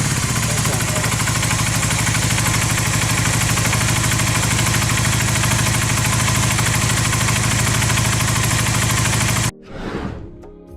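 A Honda 450 motorcycle engine idles steadily after a valve adjustment, a close, even mechanical chug with a ticking beat that runs for about nine seconds and then cuts off, followed by a brief whoosh.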